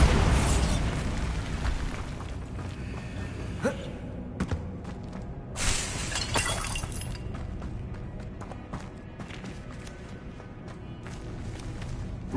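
A Bombarda spell explosion in Hogwarts Legacy, a loud burst that opens and slowly decays, followed by a second smaller blast and scattered crackles against a steady game soundscape.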